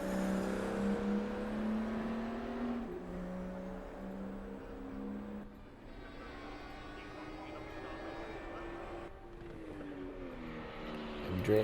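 Racing cars in a PHSR Widowmaker Series race, engines droning steadily with shifting pitch as they pass and change gear, continuous and moderately loud with no talk over it.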